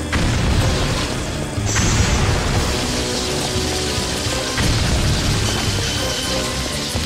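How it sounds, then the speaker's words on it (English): A hand grenade blast in the light-gun shooter Time Crisis 4: loud, dense booming rumble that fills the whole stretch with a sustained crackling wash of game noise, a fresh surge partway through, and no voices. "Hand grenade."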